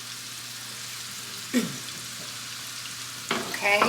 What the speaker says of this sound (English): now that the butter has melted, I'm going to go ahead and add the chopped mushroom stems